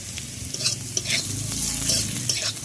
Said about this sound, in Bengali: এভাবে ভালো করেই নাড়িয়ে নিতে হবে।